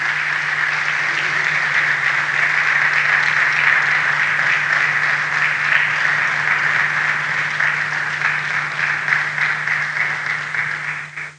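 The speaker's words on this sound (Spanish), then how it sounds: "Dele un aplauso al Señor." A church congregation gives long, even applause, thick continuous clapping over a low steady hum, running unbroken until it cuts off abruptly at the end.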